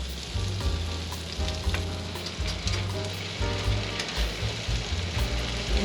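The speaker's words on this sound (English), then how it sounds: "So you wanna make sure that we are getting a really good coat of butter all over the pan. All right, it's time to lay our steaks in." Two steaks frying in a buttered pan give a loud, steady sizzle that holds throughout, with brief surges and crackles as the meat goes in.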